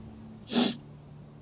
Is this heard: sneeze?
yes